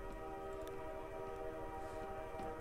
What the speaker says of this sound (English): I hear a train sound as well.